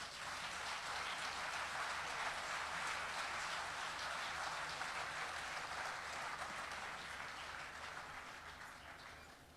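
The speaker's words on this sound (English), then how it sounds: "Give them a round of applause, please." Audience applause at a folk festival in Warwick, a steady dense clapping crowd that holds for nearly ten seconds and eases slightly toward the end, with no voices over it.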